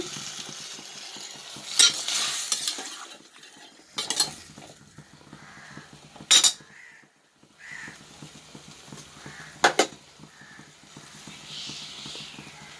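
Ingredients for a mint tomato chutney sautéing in a pan, with bursts of stirring and utensil scrapes at intervals over a low sizzle and clinks of cutlery.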